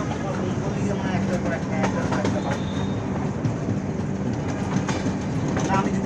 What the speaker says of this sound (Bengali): আমরা এখন জংশন অতিক্রম করতেছি